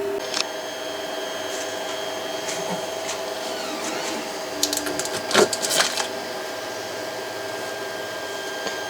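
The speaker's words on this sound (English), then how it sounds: "Very slowly, the build table is lowering down." An Elegoo Saturn resin 3D printer hums steadily as its build table slowly lowers, a constant motor whine with a few faint clicks and a brief rattle midway.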